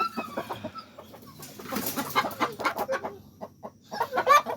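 Farm chickens being caught and handled cluck in a busy, overlapping stream of short calls, close and fairly loud, with wing flapping and scuffling throughout.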